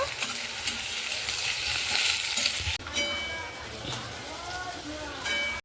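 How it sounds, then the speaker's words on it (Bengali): Sliced onions, four or five of them, fry steadily in hot oil in a pan for a Bengali chicken kosha, giving a loud continuous sizzle that shifts briefly as they are stirred. "চারটে থেকে পাঁচটা কিন্তু পেঁয়াজ কেটে দিয়েছি এবার আমি লাল লাল করে ভেজে নেব"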